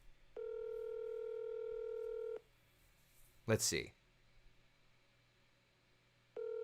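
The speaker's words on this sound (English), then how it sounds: "Let me see if I can get him on the phone for a real quick chat." Telephone call being placed, a steady two-second ringback tone near the start, a short burst of sound in the middle, then the tone returning at the end, with a voice speaking briefly at low level.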